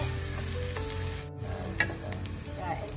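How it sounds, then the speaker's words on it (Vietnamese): Minced shallots, garlic and chili hit a hot pan and sizzle steadily and close up, with a few light utensil clicks over the frying. "Chảo mở lên nó cũng nóng rồi, em cho củ hành và tỏi băm với ớt băm."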